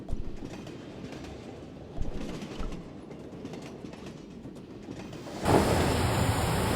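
Train from the video game Broken Sword rolling along its tracks, a steady rumbling clatter that swells louder near the end, with no talk over it.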